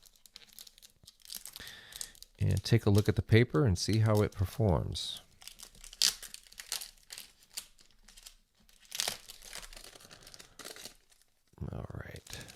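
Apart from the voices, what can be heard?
unwrapping plastic packaging of a Midori A5 notebook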